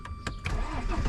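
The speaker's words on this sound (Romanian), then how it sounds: "Mai nou, așa se pornește mașina." A car engine cranks and catches near the mic, a BMW E8-series parked on a street by a tree, with a couple of sharp starter bursts followed by a steady idle rumble.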